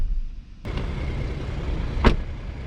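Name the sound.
Toyota Land Cruiser 300 door closing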